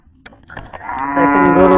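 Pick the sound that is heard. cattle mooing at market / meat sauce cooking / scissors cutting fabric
cattle mooing at market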